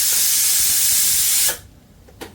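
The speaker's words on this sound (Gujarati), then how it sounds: "સીટી વાગે છે, મારા હાથ ઉપર જ ગરમ ગરમ વરાળ આવે" A pressure cooker boiling sweet corn vents steam in a loud, continuous hiss that cuts off abruptly after about a second and a half, leaving a quiet kitchen with a faint short puff near the end.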